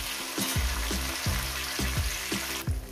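Potatoes and tomatoes fry in a hot pan, giving a steady loud sizzle. Regular stirring scrapes and knocks come about twice a second, with no talking.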